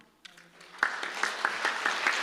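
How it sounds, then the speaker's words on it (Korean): A congregation claps in a church during a Sunday service, the applause swelling from scattered claps into a close, sustained round with distinct slaps standing out, while a voice speaks at the start. "다시 한번 큰 박수 해주시고요"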